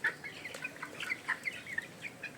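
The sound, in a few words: chickens clucking on a poultry farm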